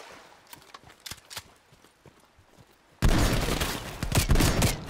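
Gunfire in the Call of Duty: Cold War campaign, a quiet run of sharp shots that gives way to a sudden loud, dense burst of firing and impacts.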